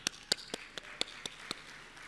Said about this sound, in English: Applause if it's Tanzania.